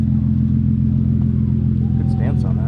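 Hyundai Genesis Coupe idles at a charity car meet in a stadium lot, a steady, deep engine rumble close by, with a voice briefly speaking over it near the end.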